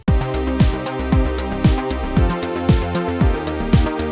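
A variation of a simple synthesized bassline loop in digital music production: busier, denser bass notes with sliding pitch drops repeating in a steady groove, loud and continuous with no voices.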